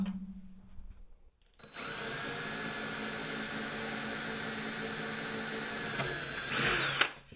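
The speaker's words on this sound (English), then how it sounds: "when it comes time to drill out holes like these" A power drill whirs steadily and loudly for several seconds after a short quiet start, its pitch shifting slightly near the end before it stops.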